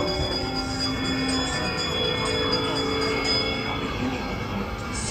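A bell rings inside Disneyland's Haunted Mansion ride, a faint, sustained tone sitting in a dim, echoing space under a steady rumble of ride machinery.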